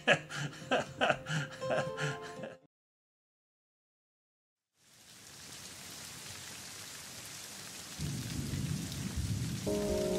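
Steady rain pours down after a short silence, a dense hiss of falling drops that grows heavier and fuller toward the end.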